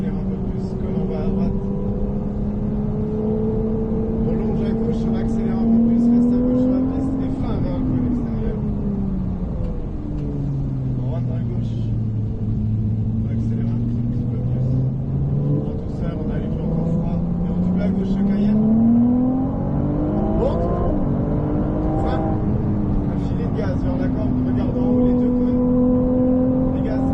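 A race car accelerating on a track marked with cones, its engine drone rising and falling steadily with each acceleration and lift, loud and close throughout, while a driving coach talks over it.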